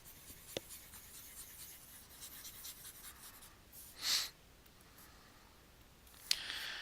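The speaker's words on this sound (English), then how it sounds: "I'm going to erase this to create some room." A whiteboard being wiped clean to make room. It gives a few faint squeaky rubbing swipes, with one clearer rub in the middle and a scrape near the end, in a quiet room with no talking.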